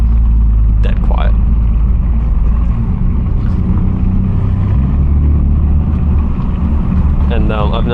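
A 2023 Mazda 3 Sport with stock exhaust and about 50,000 km idles or cruises with a low, steady, quiet engine rumble, heard from inside the cabin while a person talks.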